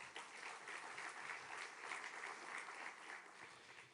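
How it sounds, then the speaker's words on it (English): An audience applauds ministers at a French diplomatic conference on a two-state solution, with steady, dense clapping sustained throughout at moderate loudness and no talk over it. "On peut les applaudir également."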